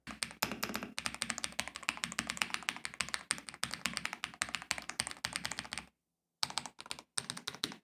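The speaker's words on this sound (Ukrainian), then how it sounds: "Друкувати на ній справді приємно" Rapid clattering keystrokes on an EPOMAKER AK820 Pro mechanical keyboard, close and steady, with a brief pause before the typing resumes in short bursts.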